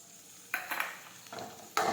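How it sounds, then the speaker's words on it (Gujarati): Chopped tomatoes sautéing in a pan for an okra curry, a soft sizzle with a few bright bursts of stirring and spatula scrapes, close and fairly quiet. "હવે આપણે સાતળી લઈશું. સમારેલા ટમેટા નાખી દઈશું."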